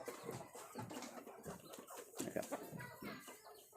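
Fighting rooster clucking in a faint, noisy outdoor setting, a few soft clucks scattered over steady background noise with no one talking.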